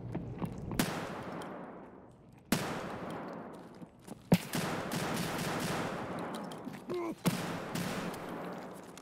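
Gunfire rings out in a first-person shooter match on the Factory map, with sharp single shots and short bursts echoing at moderate distance over a quiet backdrop.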